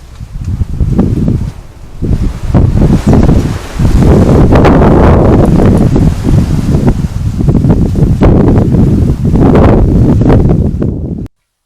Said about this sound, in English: It was still windy just after midnight